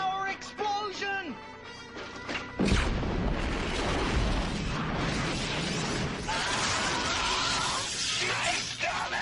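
A cartoon energy explosion, the Nova Power blast, erupts with a sudden booming crash after some electronic tones, then a long roaring, crackling rumble of debris and effects that stays loud to the end.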